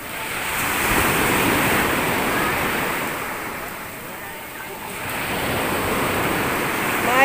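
Sea waves breaking and washing on a beach, a continuous roar of surf that swells and eases in slow surges, close and fairly loud, with wind noise on the microphone.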